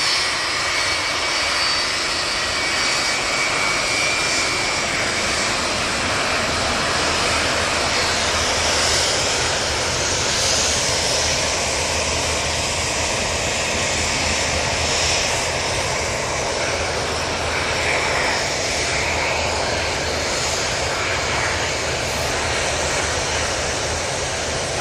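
Boeing 757 jet engines lined up at Manchester Airport, a broad, steady, loud roar and hiss holding for the whole stretch with no voices.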